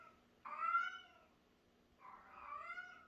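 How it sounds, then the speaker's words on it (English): A pregnant foster cat lets out two loud, drawn-out meows, close by in a quiet room, with a short pause between them. "The foster kitty is so loud."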